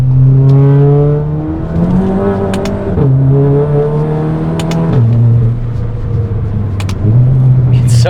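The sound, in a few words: Mk7 GTI DSG car aggressive exhaust revving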